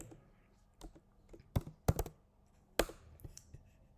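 Computer keyboard keys clicked while typing out HTML code, a handful of sharp, separate taps in irregular bursts, fairly close and quiet with no voice over them.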